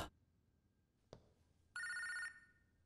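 A telephone bell gives one short, bright, loud ring after a couple of soft knocks in a quiet room, with no speech.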